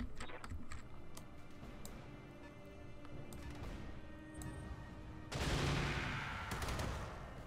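Mech weapons fire in the game Roguetech: rapid bursts and cracks over a rumbling battle bed, then a loud, sustained blast of noisy impact near the end.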